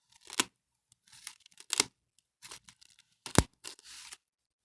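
Blade cuts slice through GPU packaging for a Gigabyte card in several separate bursts, each a sharp close rasping cut or tear, with short silences between strokes.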